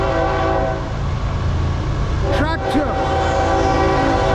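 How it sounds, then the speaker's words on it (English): A CSX M406 manifest freight train passing through Middlesex, New Jersey, led by locomotive 3071, sounds a loud sustained horn over heavy rail rumble, and a voice speaks briefly. "Come on, give me a nice horn shot."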